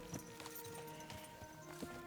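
Horse hooves clip-clop in the video game Kingdom Come: Deliverance II, a faint, irregular series of soft hoof thuds under quiet ambient game sound, with no speech.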